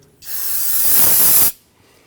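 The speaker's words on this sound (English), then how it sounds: "use some spray solvent and go ahead and clean up any of the residual brake fluid that had leaked out" One loud, close burst of solvent cleaner sprayed onto rear brake parts of a 2017-2020 Hyundai Elantra, a steady hiss lasting just over a second before cutting off sharply.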